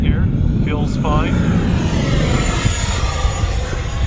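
An FMS F-86 Sabre 80mm RC electric ducted-fan jet roars steadily overhead with a loud, continuous whooshing rush, and a faint voice briefly sounds early on.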